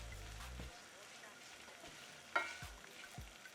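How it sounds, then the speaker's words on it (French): Mbinzo caterpillars being lightly pan-seared give a faint, soft sizzle with a few quiet clicks and knocks from stirring in the pan. "Just a light pan seared"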